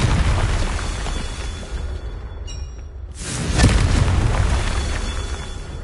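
A Confringo blasting spell detonates in Hogwarts Legacy as a loud, dense roaring boom, with a brief dip followed by a second heavy burst that rumbles on to the end.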